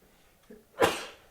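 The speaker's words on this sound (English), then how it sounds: "Don't sneeze on me, I don't want to get a cold." A single sharp sneeze close to the microphone, preceded by a short intake of breath, in an otherwise quiet room.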